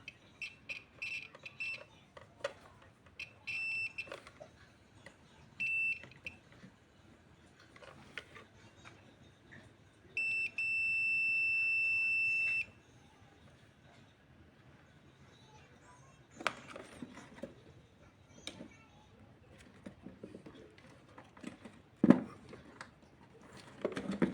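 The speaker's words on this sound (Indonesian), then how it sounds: "Kita pakai buzzer ya biar kedengar." A continuity buzzer, used to test a Polytron Cinemax PLD 32T711 TV board for shorts, gives several short beeps and one steady tone lasting about two and a half seconds. These sound faint against quiet clicks and handling noise on a workbench.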